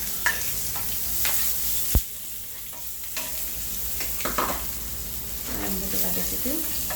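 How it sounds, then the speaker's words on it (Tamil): Ground rasam paste sautéed in hot oil tempered with curry leaves and dried chillies, a steady close sizzle and frying crackle with stirring scrapes of a spoon in the pan, and soft talk in the background. "நம்ம மிக்ஸி இதை அரைச்சிட்டு வந்தது கொஞ்சம் இதில் போட்டு வதக்கிடுவோம்."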